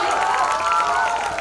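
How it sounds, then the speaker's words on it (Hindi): An audience at a talent hunt awards ceremony in Ayodhya applauds and cheers. The sound is a loud, steady wash of clapping mixed with raised voices that lasts the whole moment. "एक बार जोरदार तालियां"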